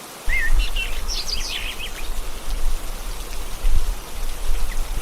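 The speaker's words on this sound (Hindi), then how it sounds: "अगली सुबह जब वो लोग उठे तो हल्की हल्की बारिश हो रही थी" Light rain falls with a soft, steady hiss and low rumble, while a few birds chirp faintly in the background.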